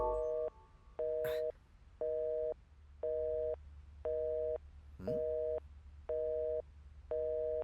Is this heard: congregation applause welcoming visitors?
no